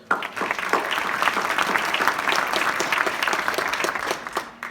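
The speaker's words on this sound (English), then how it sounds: "Deserve a round of applause." Audience members at a county official's swearing-in ceremony break into lively applause after the judge administers the oath, a close, sustained burst of many hands clapping with occasional louder individual claps.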